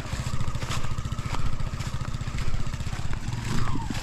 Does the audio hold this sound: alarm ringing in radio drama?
no